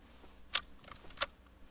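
An empty rifle in the military shooter Arma 3 clicking dry when fired with no rounds left: two sharp, isolated clicks a little over half a second apart.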